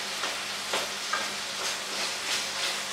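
Food fries steadily in a pan with mushrooms, a continuous bright sizzle and crackle, with occasional stirring scrapes and no talk.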